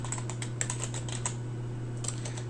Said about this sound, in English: So let's type in pay or not.